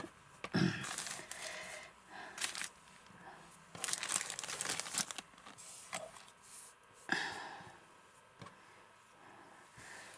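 A plastic bag holding fabric scraps crinkles and rustles up close in several bursts as it is handled, with sharp crackles separated by quieter pauses.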